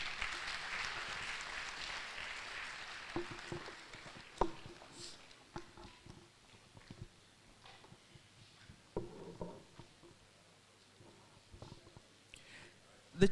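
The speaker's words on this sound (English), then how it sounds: "Please clap for her." Audience applause at a valedictory academic programme, a soft patter of clapping that fades after a few seconds into scattered faint claps and small room noises, heard from a distance.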